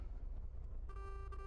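A short, faint non-air-horn toot from a modded truck in a trucking video game starts over a low rumbling engine, sounding briefly near the end.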